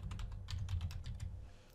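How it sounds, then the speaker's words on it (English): Quick run of keystrokes on a computer keyboard, light rapid clicks close by, alone for under two seconds. "And we're typing in that collection name here."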